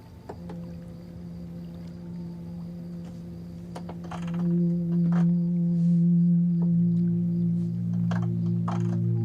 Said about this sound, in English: We have crispy vinyl already, which sounds like this.